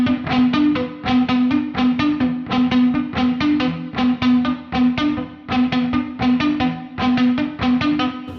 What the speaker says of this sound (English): with the palm muting, it doesn't really sound very good because the notes have no sustain at all